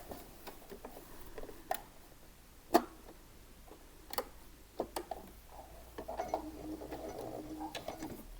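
A sewing machine stitches a 1 cm seam down the middle of a flared skirt, with light irregular ticking and short mechanical bursts that become denser toward the end.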